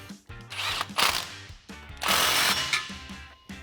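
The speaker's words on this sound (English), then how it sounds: "tighten down that clamp once you know exactly where it's aligned" A wrench tightens an exhaust clamp on a side exit pipe of a 2015-2020 Ford F150 dual exhaust, giving bursts of close metallic ratcheting and clicking in quick uneven runs, separated by brief pauses.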